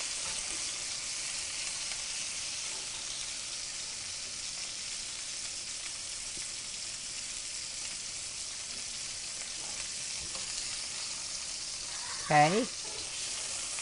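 Pork browns in an Instant Pot with a continuous, even sizzle and hiss up close, a brief clink near the end and a short spoken word.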